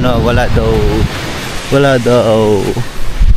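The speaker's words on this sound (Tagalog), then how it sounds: "Lakas din pala ng alon dito." Strong ocean surf rolls onto the La Union shoreline in the Philippines, a loud, steady roar of breaking waves and wind under a person talking.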